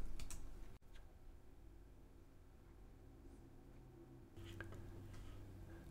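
Typing on a computer keyboard, a short run of soft, close key clicks, quiet against a low hum with a brief pause partway through.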